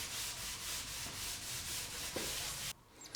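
Stain is rubbed by hand with a cloth into poplar wood slats coated with shellac, giving a close, rhythmic scrubbing swish in even strokes that stops abruptly near the end.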